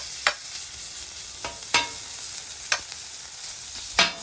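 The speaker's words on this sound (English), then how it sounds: "You're going to take your shredded pork right on the griddle." Fatty shredded pork sizzles on a hot griddle with a soft, constant frying hiss, broken by a few sharp scraping bursts from a spatula turning the meat.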